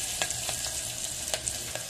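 Onions frying in a pan for a taro curry, a steady close sizzle with a few soft stirring scrapes over about two seconds.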